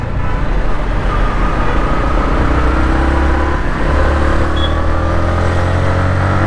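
A 2022 Yamaha MT-15 V2 motorcycle accelerating in third gear, its engine a steady, loud, close rumble with a faintly rising drone and constant road and wind noise throughout.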